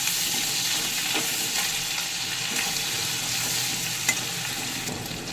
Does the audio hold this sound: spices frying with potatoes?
yes